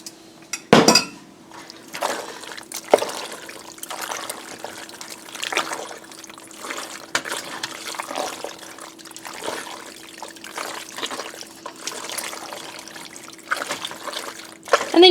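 Sauce trickles and pours into a pan of grilled chicken rigatoni, a soft steady liquid stream with occasional clinks of a utensil against the pan, close and fairly quiet.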